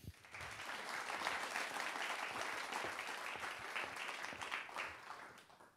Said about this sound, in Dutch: Geef haar een hartelijk applaus.